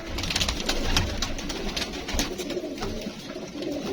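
Pigeons coo in a loft kept by a hobbyist in Karachi, their soft repeated calls mixing with rustling and flapping, close by and continuous, with no talking.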